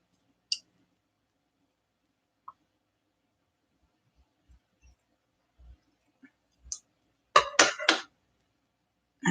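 Craft material for an altered journal is cut down in a quiet room. A few faint, scattered clicks and taps come first, then a short cluster of crisp cutting snips near the end.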